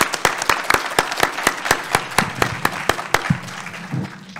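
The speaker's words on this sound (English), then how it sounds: "Could we wish Ram well with a round of applause?" A conference audience at an environmental science event claps in a round of applause, with crisp, regular, closely spaced hand claps that hold steady and then thin out and fade toward the close.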